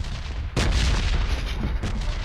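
Bomb explosions in the PUBG Mobile battle royale shooter boom heavily over a constant rumbling game soundscape, with one loud burst near the start and a softer blast toward the end.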